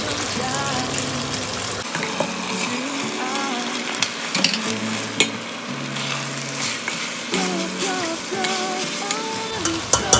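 Boiled pasta is tipped into a pan and stirred, giving a soft sizzle with scraping and clinking of the utensil against the pan, while background music plays throughout.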